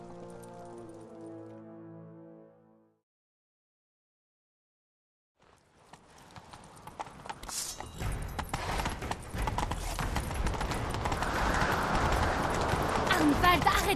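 A horse gallops in The Witcher 3 video game, rapid rhythmic hoofbeats building and growing louder over the second half, with rain-like noise behind it, after a short spoken line and a brief silence.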